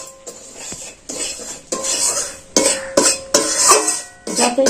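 Rice flour is fried in ghee with a metal spoon scraping and knocking against the pan in repeated strokes. The stirring is close and loud, with only a faint sizzle underneath.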